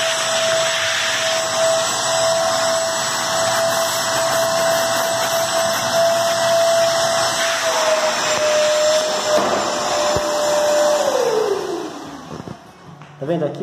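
A vacuum cleaner runs loud and close on a varnished wooden floor that is being stripped of old wax, droning steadily with a high whine before its pitch falls as it powers down.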